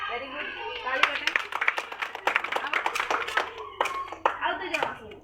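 Children clap their hands during a number game in a classroom activity, a burst of scattered, uneven claps mixed with an adult's voice and kids' chatter.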